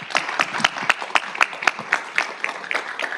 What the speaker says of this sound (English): If we can please give her a round of applause